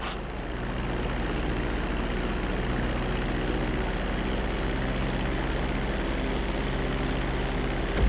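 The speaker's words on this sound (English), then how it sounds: "reducing the plane's altitude gradually so you're just above the runway as you approach" A plane landing on a runway in GTA V, its engine a continuous loud, steady drone with a low rumble, holding even throughout with no talking.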